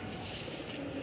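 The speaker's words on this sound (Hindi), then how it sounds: "अच्छा साइज वाला कबूतर है।" A large khargoshiya-breed pigeon gives a brief, muffled coo, low and half-buried under steady broadband background noise.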